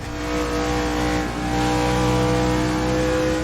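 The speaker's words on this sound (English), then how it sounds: "you can also hear me just playing with the throttle a little bit just by listening to the engine there through that final corner" A NASCAR stock car in the Assetto Corsa racing game revs through a corner with throttle blips, the engine's loud steady drone dipping briefly midway before rising again, close and alone.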